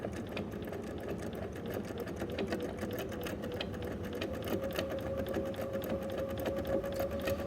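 A sewing machine runs steadily in free-motion stitching on a fabric appliqué, producing a continuous close mechanical hum with rapid needle clatter and no talk.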